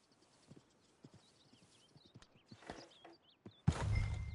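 Horse hooves clip-clop at a walking pace in a video game, a run of light, evenly spaced clops over a quiet ambient background with birdsong, before a louder burst of noise near the end.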